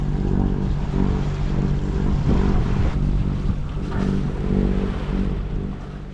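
A sailboat's engine drones and chugs steadily at close range on an ocean passage from New Caledonia to Australia, with water and wind noise washing over it throughout.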